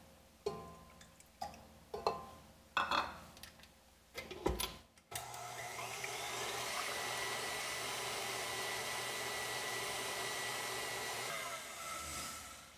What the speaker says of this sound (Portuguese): Eu começo batendo as claras em ponto de neve.